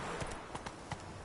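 Roach, the horse from The Witcher 3, trots with a few distinct hoof clops spaced unevenly across a short stretch, fairly close, heard over a steady game background with no voices.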